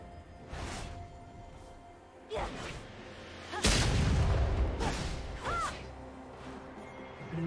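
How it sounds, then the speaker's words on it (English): A turret is destroyed in League of Legends: a heavy crashing boom bursts out and rumbles off, amid scattered impact hits and game effects, with a voice speaking briefly. "Blue team's turret has been destroyed."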